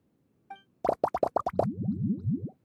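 In Genshin Impact, lizard tails, fish scales, mucus and slime condensate plop into a drink: a single drip, then about six quick wet plops followed by a run of bubbling glugs, close and clear.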